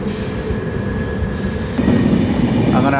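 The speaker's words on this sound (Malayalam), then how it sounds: "അങ്ങനെ ആ ട്രെയിൻ അതിവേഗം പോയി തീർന്നു." A train passes at speed nearby, a loud rolling rumble of rail cars with wheel clatter that swells toward the end, with faint squealing tones from the wheels.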